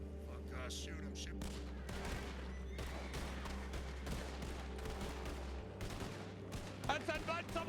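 Gunshots in the Wild West game Red Dead, delivered as a run of scattered cracks and booms spread through a noisy fight, with players talking excitedly over the shots.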